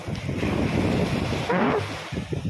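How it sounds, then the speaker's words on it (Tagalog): Fairly strong sea waves wash against a beach at Lobo, making a steady broadband roar with gusty wind noise on the microphone, close and continuous. "Medyo malakas po yung alon."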